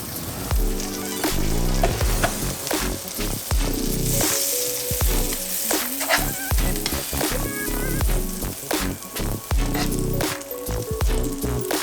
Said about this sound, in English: I'm about to throw these on and cook these real fast